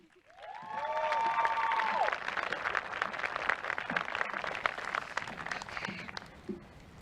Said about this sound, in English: keep that applause for our next guest, Piper Daly.